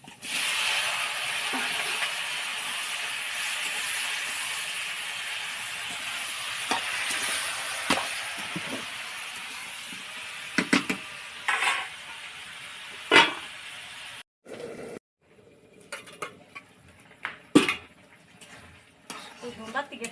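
Dumba meat frying in oil with chopped onion and green chilli in a pan, a steady hiss and sizzle that fades midway, broken by spatula scrapes and clatters against the pan as it is stirred.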